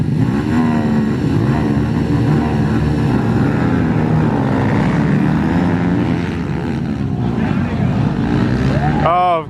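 Honda Grom minibikes race at the Woodsman Cup, an off-road motorcycle event. Their engines give a loud, steady whine that rises and falls as the riders rev, with voices underneath.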